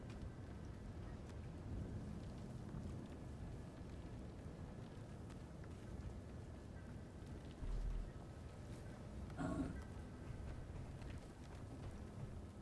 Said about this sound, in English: Oh, it's hailing outside.